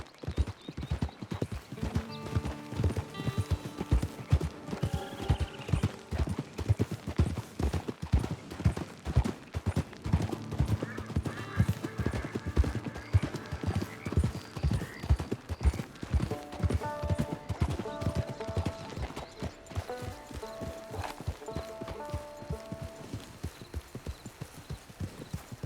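Horse hooves clip-clop steadily at a walking pace in the Red Dead Redemption 2 Wild West multiplayer game, close and continuous under game music, with an occasional faint whinny.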